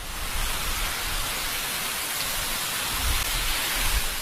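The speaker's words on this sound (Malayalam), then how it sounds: "കസീം പ്രവിശ്യയിലാണ് കനത്ത മഴ" Steady, dense hiss of heavy rain pouring down in Unaizah, Qassim, Saudi Arabia, constant and fairly loud throughout, with a few low rumbling thumps near the end.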